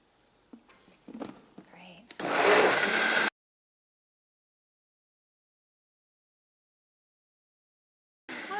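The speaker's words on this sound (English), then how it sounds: "the last step is just to blend this up." Kitchen blender pureeing broccoli soup, a loud steady whir lasting about a second before cutting off, following some quieter handling noises and restarting briefly at the end.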